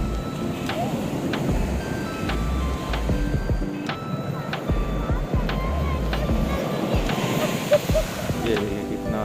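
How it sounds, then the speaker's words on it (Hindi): Ocean waves surge heavily onto a beach, a steady loud wash of surf with wind noise buffeting the microphone and people talking over it. "ये देखिए कितना तेज आ रहा है पानी, सब पूरा ऊपर आ रहा है अभी"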